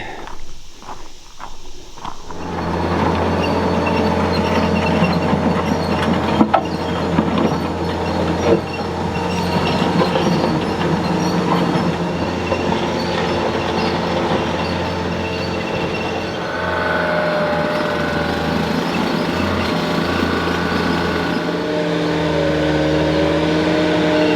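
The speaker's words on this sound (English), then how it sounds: "So since I have the skid steer, we'll do it." An ASV RT75 tracked skid steer loader moving rocks, its diesel engine droning loud and steady with track clatter and rattling, pitch shifting as the machine works.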